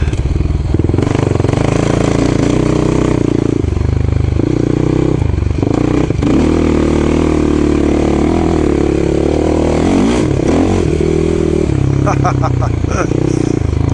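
A Suzuki LT-R450 quad races along with its engine loud and close, revving and shifting pitch throughout while riding, with clattering bumps from the terrain.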